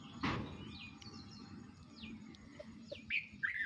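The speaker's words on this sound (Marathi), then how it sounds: "तिथल्या पक्ष्यांचा आवाज येतो आहे छान येतो आहे ना" Birds chirp and tweet nearby from a jamun tree with short rising and falling calls, growing busier toward the end, after a brief knock at the start.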